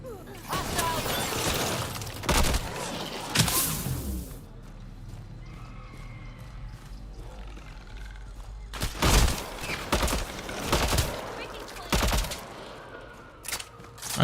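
Gunfire in Mass Effect Andromeda comes as several loud, separate bursts of shots over a busy game soundscape, which also holds neighing horses and clopping hooves.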